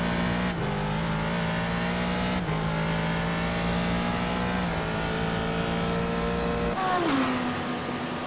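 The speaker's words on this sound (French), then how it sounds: "j'ai fait écouter un petit peu le bruit du moteur de la Ford" A Ford race car engine in the iRacing video game at Mosport roars steadily, its pitch climbing and dropping sharply at gear shifts, a loud continuous drone with a brief tire squeal near the end.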